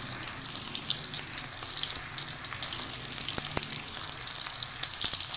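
Potato pieces fry in hot oil with a continuous bright crackling sizzle, close and steady, with occasional sharper pops and stirring knocks and no voices.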